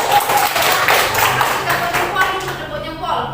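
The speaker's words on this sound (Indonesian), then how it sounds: "tepuk tangan untuk kelompoknya Ayu" A class claps for a student group after its presentation, a burst of scattered hand claps with thumps and taps close by, mixed with voices talking over it.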